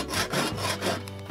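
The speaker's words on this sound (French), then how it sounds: "on va venir couper à ras tout simplement notre tourillon" A Japanese handsaw cuts a wooden dowel flush in quick back-and-forth rasping strokes, close and clear, with no voices.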